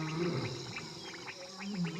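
Lions roaring across the savanna, the deep calls coming from a distance as a low rumbling swell that rises and falls in steady waves, with faint insect-like chirps layered over the top.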